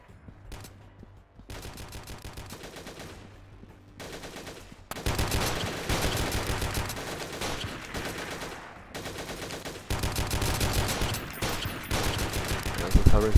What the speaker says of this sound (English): And all I'm doing right now is trying to get some covering fire from my guys.